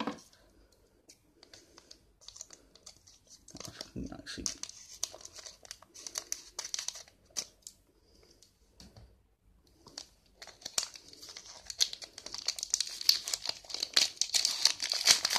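Plastic wrapping of a Pokémon XY Evolutions booster pack being cut open with scissors, with dense crinkling, rustling and clicking that grows louder and busier toward the end, and no talking.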